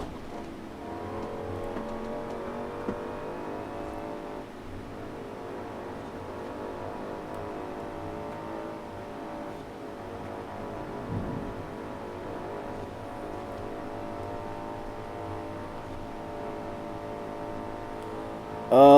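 Hellcat V8-swapped 1969 Dodge Charger Daytona in Forza Horizon 4, a steady droning engine note held at cruising revs for the whole stretch, moderately loud and alone, with one brief blip near the end.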